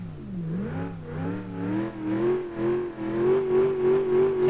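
Simulated car engine in BeamNG.drive revving with an overheating, slipping clutch, its pitch climbing steadily and holding high, loud and continuous with no talk.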